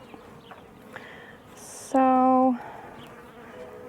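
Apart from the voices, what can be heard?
bees buzzing around an open hive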